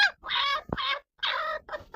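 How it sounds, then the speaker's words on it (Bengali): A hen sitting on eggs makes a few close, short clucking calls in quick bursts separated by brief pauses. "এদিকে আরেকটা মুরগি ডিম নিয়ে বসে রয়েছে"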